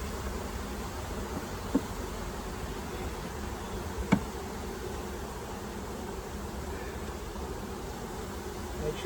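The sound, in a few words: honeybees fanning at a new hive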